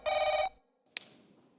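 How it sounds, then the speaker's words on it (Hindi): A telephone bell rings in one short burst, followed by a pause and a sharp click, as if a receiver is picked up. "अपना फोन आ रहा है।"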